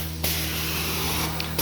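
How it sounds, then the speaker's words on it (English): Carpet cleaning wand jets spray hot water onto soiled carpet in a steady, close, loud hiss, cutting in briefly near the end before resuming. "I am doing backstrokes over it first, so my jets are hitting it first before the vacuum part of the wand is."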